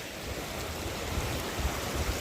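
Rainwater rushing down a monsoon stream on an open plateau, a steady broadband wash of flowing water with light wind, fairly faint and continuous.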